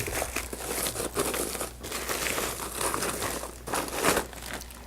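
Packaging is pulled from a BenQ MH680 Full HD 3D DLP projector box, giving steady close crinkling and rustling of plastic and foam that swells in a few louder bursts, with no speech.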